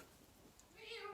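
A house cat gives a single short meow near the end, indoors and fairly faint.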